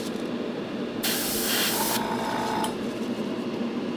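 A spray can hisses in one sustained burst of about a second, then a brief second puff, while spray painting an HO scale EMD FT model locomotive, over a quiet mechanical hum.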